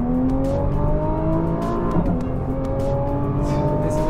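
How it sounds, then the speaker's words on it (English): A 600-horsepower race car lapping the Kyalami circuit roars loud and close, its engine holding a steady high drone with shifting pitch as it powers through a fast corner, alone without talk. "The car has 600 horsepower."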